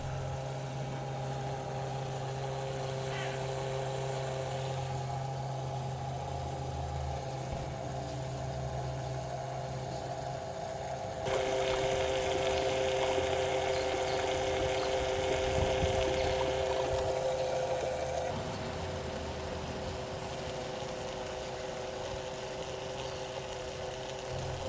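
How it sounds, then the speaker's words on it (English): A 12-volt oil extraction pump draws engine oil out of a car, a steady electric motor hum with tonal whine that grows louder and rougher midway through, then settles back, with no voices. "Move the pipe up and down until no more oil pumps out."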